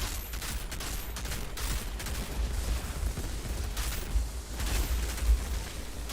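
Rapid, dense gunfire in the Outriders video game, with repeated close shots rattling continuously over several seconds amid a steady background rumble.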